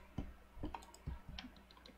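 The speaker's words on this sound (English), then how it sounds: "I'm still typing" Computer keyboard typing during a Minecraft paintball mini-game, heard as a handful of sharp, irregularly spaced clicks and taps, close and fairly quiet, with no talking.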